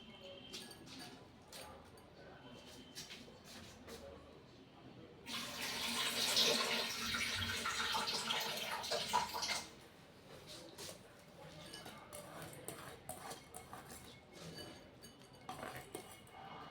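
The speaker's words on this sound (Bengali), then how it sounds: "প্রথমে আমি চালটাকে ভালো করে ধুয়ে নিয়েছি।" Rice being washed in water from a running kitchen tap, with a loud splashing and rinsing burst of several seconds amid quieter clinks of the pot and grains before and after.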